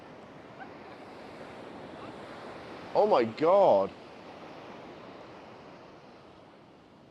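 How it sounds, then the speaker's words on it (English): Huge, rough sea waves crash and roar continuously along an Indian shoreline where swimming is prohibited, a dense broad surf rumble under wind, with a person briefly exclaiming in the middle. "They are humongous waves. Look at the size of them."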